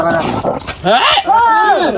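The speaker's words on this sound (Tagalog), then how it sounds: "Mga aso, ang daming aso mga be, nag-aawayan na." Many dogs snarl, yelp and howl in a close, noisy scuffle, with sharp wavering cries rising over each other while a person talks nearby.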